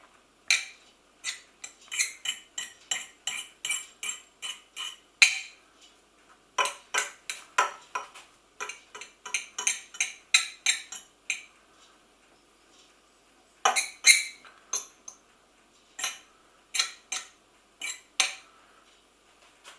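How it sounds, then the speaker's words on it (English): A metal utensil fluffs cooked couscous in a pot, producing repeated quick scraping clinks in uneven bursts with short pauses, close and fairly quiet, with no talk. "Make sure you've fluffed it all up."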